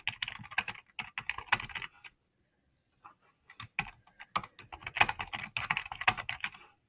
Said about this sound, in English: as I'm typing in